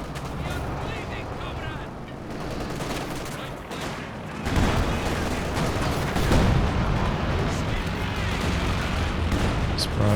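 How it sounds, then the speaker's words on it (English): A Company of Heroes 2 artillery barrage pounds away in dense, overlapping booms and blasts, and it swells even louder midway as the rolling explosions continue. A voice speaks over the battle. "Barrage getting in there."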